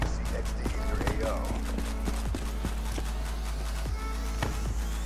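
Horse hooves clip-clop in Black Ops 3, a quick rhythmic trot of sharp thuds close by, mixed with game noise and background voices.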